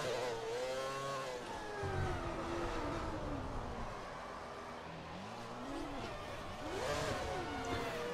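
A McLaren Formula 1 car in the racing game F1 2020, its engine note rising and falling as it accelerates hard through gears, steady and prominent without talk.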